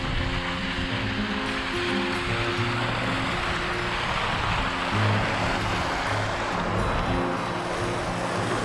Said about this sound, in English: This one's beautiful with the water falling down the rocks.